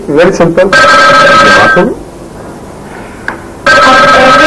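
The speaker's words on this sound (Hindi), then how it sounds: "आपको फोन की बेल नहीं सुनाई दे रही?" An old-style telephone bell rings loudly in two long bursts separated by a quiet gap, with someone speaking briefly over the start.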